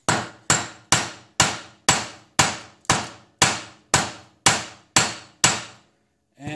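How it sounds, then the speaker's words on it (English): Eleven sharp, evenly spaced hammer blows on a hot metal spoon against an anvil, each ringing briefly before the next, a steady metallic pounding close up with no talk. "And just hammer a flat spot on it."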